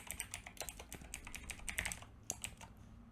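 Quick, uneven typing on a computer keyboard: a close run of light key clicks and taps over a few seconds, with no voices.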